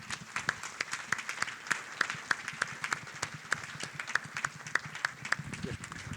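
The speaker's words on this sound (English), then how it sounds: "Would you give them a round of applause?" Crowd applause for board members at a board of directors annual election meeting, a steady run of fairly regular hand claps at moderate level, sustained without talk.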